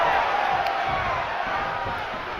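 A capacity arena crowd in WWE 2K25 roars and cheers in a steady, dense wall of noise that holds throughout without letting up.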